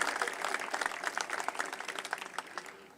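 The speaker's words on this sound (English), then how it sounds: "I think everybody should give Marvis applause." A room full of people at a statue dedication claps enthusiastically, dense rapid applause that holds strong and then starts to taper toward the end.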